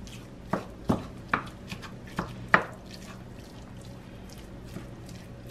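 A knife chops through lean sausage on a board in a handful of crisp, separate strokes, evenly spaced at first and then thinning out, close and clear with no talking.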